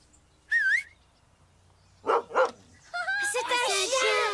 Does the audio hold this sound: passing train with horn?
no